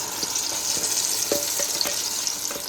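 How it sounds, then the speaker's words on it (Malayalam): Ground carrot frying in a pan with a steady sizzle and a few soft stirring clicks and scrapes, close and continuous, no talking. "ഇനി അതിലേക്ക് നമ്മൾ അരച്ച് വെച്ചിരിക്കുന്ന ക്യാരറ്റ് ഒഴിച്ചു കൊടുക്കാം"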